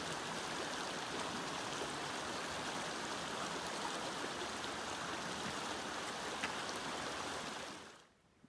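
Muddy creek water rushes steadily over a small trail crossing near a mountain meadow in a burned wilderness area, a loud, continuous broadband wash that holds evenly and then cuts off abruptly near the end.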